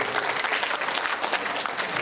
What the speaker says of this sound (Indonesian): Tepuk tangan untuk Pak Ibrahim Saifuddin.